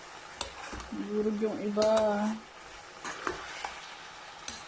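Tofu in oyster sauce simmers in a pan, a soft bubbling under a brief spoken voice, followed by a few light clinks of a utensil against the pan.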